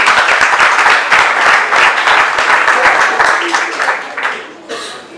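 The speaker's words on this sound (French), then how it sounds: "nous allons l'acclamer" An audience at an association's open-house event applauds its secretary general with sustained, dense clapping that fills the room, then thins and fades toward the end.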